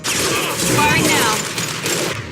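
Gunfire in Mass Effect 2 comes as a loud, rapid burst of shots blending into a dense roar, filling the whole brief moment.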